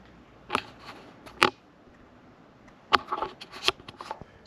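Loose cable tie ends are snipped off during repair work on a Mercedes W201 190D, with several sharp, close clicks of the cutter in two quick clusters separated by quiet.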